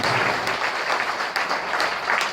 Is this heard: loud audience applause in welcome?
yes